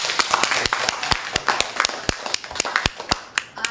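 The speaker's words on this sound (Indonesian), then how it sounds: "Tepuk tangan dulu lah" Sparse, uneven hand claps from a small audience at a coordination meeting of an alumni association in Jakarta, individual sharp claps ringing out in a loose rhythm, fairly close and moderately loud.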